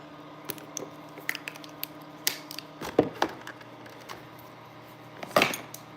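Short hissing bursts from a makeup setting spray bottle, two quick misting sprays standing out among soft clicks and handling noises.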